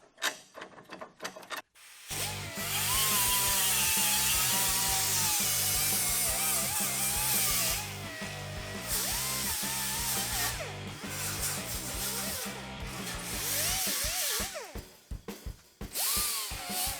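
An angle grinder works sheet metal for a curved subrail, a steady loud whirring grind that holds for several seconds, dips briefly and resumes before cutting off.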